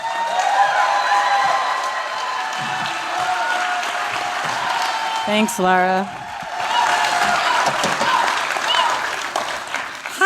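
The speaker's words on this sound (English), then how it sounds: "So please, let's give her a big round of applause." An audience at a poetry reading in the Liberty Theater gives sustained applause and cheering, with a brief spoken thanks cutting through partway before the clapping carries on.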